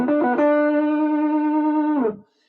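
An electric guitar played through a Marshall Plexi amp on the neck pickup, with gain up and the tone rolled off, rings out as one loud distorted chord that is held for about two seconds and then cut off.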